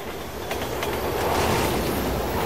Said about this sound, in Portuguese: No momento que passa o trem, os zumbis morrem.